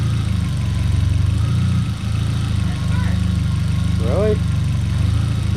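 A VW MK4 Jetta 1.8T engine, checked for worn motor mounts, hums at a steady idle with a low, even pulsing drone up close. A brief voice cuts in near the end.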